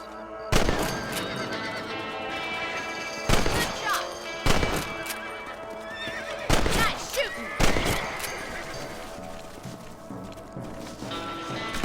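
Rifle shots ring out in Red Dead Redemption, the game's rabbit hunt: about five loud, sharp cracks spaced irregularly across the stretch, with horse whinnies and ambient game sound between them.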